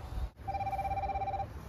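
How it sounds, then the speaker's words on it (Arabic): A GS8 Ultra smartwatch rings with an incoming call, a short electronic tone starting after a brief click and holding steady for about a second, close and clear with no speech. "ده صوت الساعه نفسه اهي، مكالمه جايه لنا اهي على الساعه"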